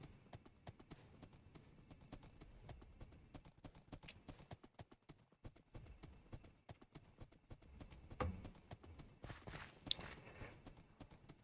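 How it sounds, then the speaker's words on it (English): Steady clip-clop of horse hooves walking at an even pace in the video game Wynncraft, a continuous rhythmic patter with a few louder knocks near the end. "And now we ride our horse for about 15 minutes"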